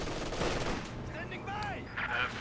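A .50 cal machine gun fires in a competitive video game match, rapid bursts of gunfire crackling in quick succession over a short stretch, with faint voices underneath.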